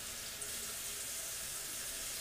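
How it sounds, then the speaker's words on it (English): Cold water runs steadily from a kitchen tap during cooking, a soft continuous hiss and splash that stays even throughout with no talking. "Now, I put a little bit of cold water on it"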